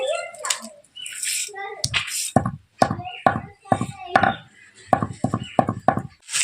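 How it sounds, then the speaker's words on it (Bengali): Cardamom pods pounded in a kitchen for watermelon lassi: a run of sharp, close knocks in uneven bursts, with a voice talking over the first part. "এই এলাচগুলোকে একটুখানি ভালো করে বেটে নিচ্ছি"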